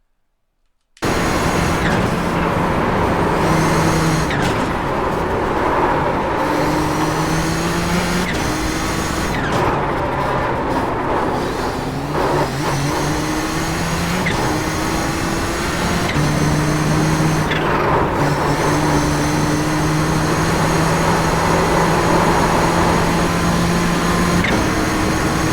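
Nissan GTP ZX-T race car at full throttle around the Nürburgring Nordschleife in iRacing, a loud sustained engine roar with rising revs, abrupt dips at gear changes and repeated climbs in pitch, no talking.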